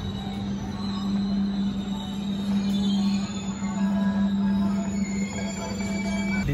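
Inside a premium-class Harina train from Bandung to Semarang: a constant low hum and rumble with faint high squeals and rattles, steady throughout, no voices.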